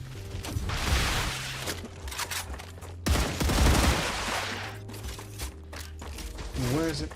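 Gunfire in the StarRupture video game, repeated bursts of loud rattling shots in two main stretches over mechanical whirring and a low droning tone.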